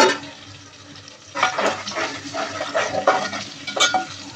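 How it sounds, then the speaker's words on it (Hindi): Onions fry in heated oil for a mutton pulao. After a quiet start, the oil breaks into close, uneven sizzling and stirring bursts that continue to the end. "ऑयल को गर्म करके इसमें अब हम प्याज डालेंगे फ्राई करने के लिए।"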